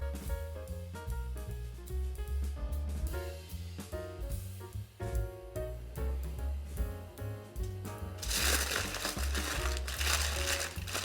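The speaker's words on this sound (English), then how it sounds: "I have to wrap this in foil." An aluminum foil sheet crinkles and crumples while wrapping a sandwich, with a burst of dense rustling toward the end, all under steady background music.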